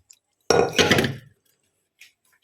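Boiled banana stem tipped into a basket strainer, a single wet, clattering pour lasting under a second, followed by quiet with faint trickles.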